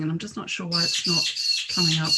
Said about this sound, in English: Oh, I hear the birds in the background.